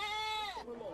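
A goat bleats during a minor league baseball game between the Wenatchee AppleSox and Kelowna Falcons, one sustained, wavering cry that breaks off near the end, fairly close and clear.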